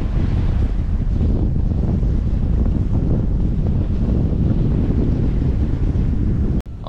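Strong ocean wind, with gusts into the 30s, roars steadily across the microphone aboard a sailboat alone at sea on the Pacific, with waves washing underneath, loud and unbroken until a brief dropout near the end.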